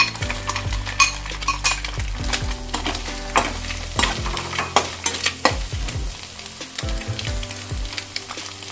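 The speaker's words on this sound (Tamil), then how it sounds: "இந்த வெஜிடபிள்ஸ்லாம் நம்மளுக்கு ஓவரா ஃப்ரை ஆக தேவையில்லை, லைட்டா வந்து நீங்க ஃப்ரை பண்ணா போதும்." Shredded cabbage and mixed vegetables stir-fry for street-style chicken fried rice, a loud close sizzle broken by repeated metal scraping and clanks of a spatula against the pan, with no voices.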